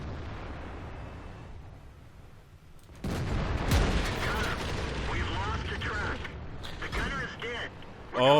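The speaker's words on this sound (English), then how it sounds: "Oh, I got hit by the artillery." An artillery shell slams into the player's tank in World of Tanks, a sudden heavy boom after a quiet rumbling lead-in, followed by sustained grinding, rattling mechanical noise and a final loud burst.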